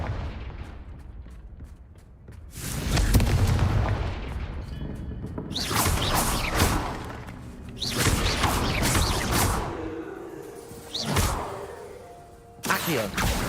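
A Confringo blasting spell goes off in Hogwarts Legacy, a series of heavy booming blasts and whooshing bursts that swell and fade loudly, one after another, with spell effects crackling between them.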